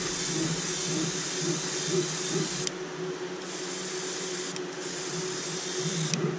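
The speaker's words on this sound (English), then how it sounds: "So I'm just gonna do another light little spray right along the back." A spray of paint hisses steadily as a light coat goes onto a fishing lure, a close, even rush that cuts out briefly twice before resuming, with no voices.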